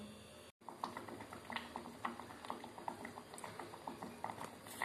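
A herbal kashayam decoction for small children simmers over a low flame, with a steady soft bubbling and popping patter close by, fairly quiet, with no voices.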